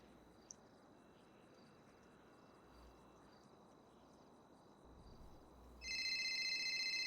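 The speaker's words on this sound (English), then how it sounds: "Oh, that's my phone." Phone ringtone from GTA V NoPixel roleplay, a steady electronic ring that starts abruptly near the end and stays loud over faint ambient background.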